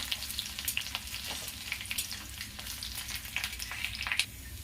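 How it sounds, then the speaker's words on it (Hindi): Finely chopped ginger and garlic frying in a pan for urad dal, a continuous close crackling sizzle with scattered pops, fairly quiet and with no voices. "ये अदरक लहसुन को मैं बारीक बारीक काट ली हूँ, इसे डालूंगी। ये कुछ भुना जाएगा"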